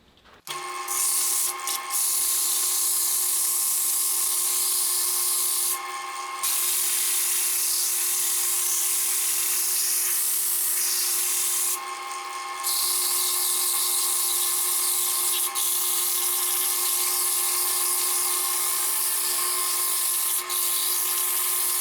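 Power sander working wood with 60 grit sandpaper for a handcrafted table, a steady high-pitched whine and abrasive hiss that runs nearly nonstop, with a few short pauses as the sander lifts off.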